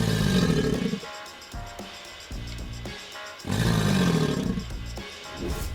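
A deep, rumbling roar rises and swells, breaks into short growling bursts, then surges loudly again, close and powerful with no talking.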